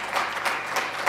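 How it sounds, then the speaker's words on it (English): A crowd claps steadily and briefly, a short patter of applause at moderate volume. "Have you all clapped out? I think we can clap some more."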